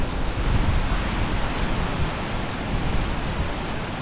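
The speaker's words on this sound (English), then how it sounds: "The water's flowing right here." Water in a swimming-hole current rushes steadily and close by, a loud broadband wash with no break and no voices.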